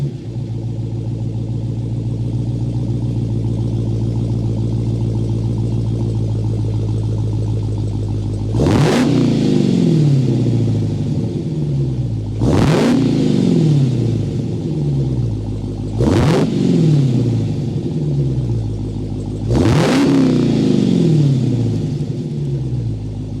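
A 2022 Dodge Challenger SRT Hellcat's supercharged 6.2-liter engine idles with a loud, steady rumble, then is revved four times in sharp blips that rise and fall back, heard close and alone.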